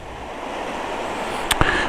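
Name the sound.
river flowing strongly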